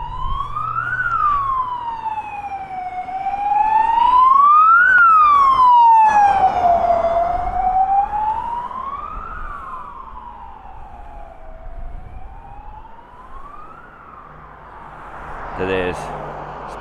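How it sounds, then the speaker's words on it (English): An ambulance siren wails, sweeping up and down in slow cycles on a road in Innisfail, Australia, loud and close, with traffic rumble underneath and a brief voice near the end. "see it's an ambulance. Wow, they're fully lit up too."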